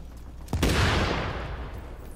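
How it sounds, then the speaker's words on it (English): A grenade blast in the video game The Division lands as a sudden heavy boom with a rumbling tail. Gunfire crackles around it, loud and close, then the noise settles into a lower roar. "God dang, stuff blowing up everywhere."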